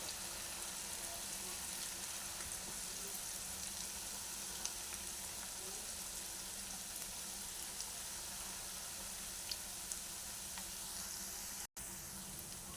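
Wheat-flour bondas fry in hot oil with a steady, dense sizzle that carries on unbroken for the whole stretch, close and fairly loud.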